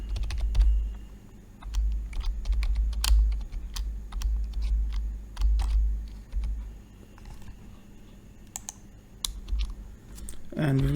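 Fast, irregular clicking of code being typed on a computer keyboard, keys tapped close-up in bursts and pauses over a low steady hum.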